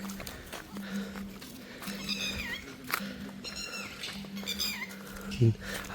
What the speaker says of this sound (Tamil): இந்த குருவியின் சத்தம் மட்டும்தான் கேட்குது